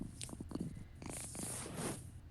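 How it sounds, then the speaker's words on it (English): A cat purrs in the video game Dragon Age, a close, rumbling, continuous purr with fluttering texture and no speech over it. "Sounds like a cat."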